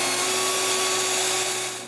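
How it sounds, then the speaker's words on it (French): Small power drill boring a very small hole through the center of a wooden tripod arm, a steady close whirring hum with a bright tonal whine throughout, fading slightly at the end. "Je perce un très petit trou au centre du bras."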